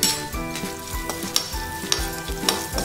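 Golden garlic frying in oil in a pan as turmeric and salt go in, a close steady sizzle with light stirring scrapes and a few sharp ticks, with no voices.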